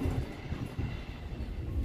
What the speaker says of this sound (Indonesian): Sekarang tinggal kereta lokal yang saya naiki berangkat nih.